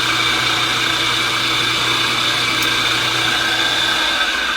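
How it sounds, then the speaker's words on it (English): Carbide reamer enlarging a 3/16 hole while building a Tuff Knives Prospect knife, a loud, steady, high-pitched whine and whir from a powered tool, running unbroken throughout. "use the carbide reamer to make that 3/16 hole a lot nicer"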